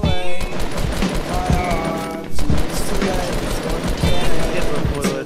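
Fortnite gunfire rattles through the whole stretch in dense volleys of sharp shots, loud and steady, mixed with other game sounds and a voice speaking over it.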